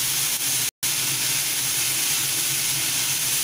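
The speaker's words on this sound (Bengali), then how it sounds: "এবার ভালোভাবে একটু ফ্রাই করে নেব।" Creamy chicken half moons frying in a pan give off a steady, close hiss of sizzling oil that holds level from start to finish.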